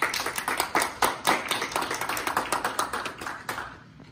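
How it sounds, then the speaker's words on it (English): An audience claps at an event announcing Ohio's housing trust fund award, steady crisp applause from a modest crowd that fades out near the end. "So if we give a little round of applause to the state of Ohio."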